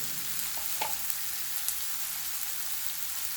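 Finely chopped onion and tomato fry in a hot pan, giving a steady, dense sizzle throughout with a few small pops and light stirring clicks, close and continuous.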